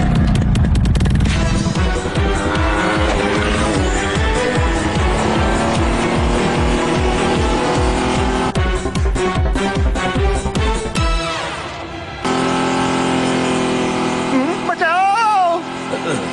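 Cartoon car and bike chase with revving engines, squealing tires and skids. Loud, busy motion sounds mix with music and dramatic effects throughout.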